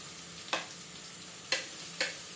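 Garlic frying in a pan for a tilapia dish in tomato sauce, giving a steady quiet sizzle broken by three short scraping stirs.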